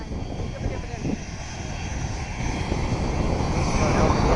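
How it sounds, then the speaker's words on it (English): An American Airlines jet airliner at St Maarten roars loudly on takeoff, a broad rushing engine blast swelling steadily at close range while people talk over it. "we've been awaiting the departure of the American Airlines"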